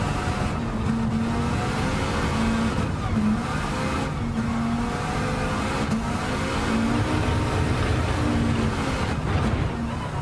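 Volvo race car engine in Gran Turismo 7, revving and droning steadily with rising and falling pitch, loud and continuous from start to finish with no talk.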